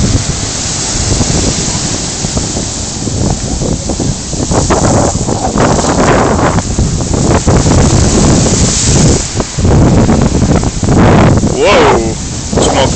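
Large ocean waves breaking on a shore in the rainy season, a loud continuous roar and wash with wind buffeting, with voices talking briefly near the end.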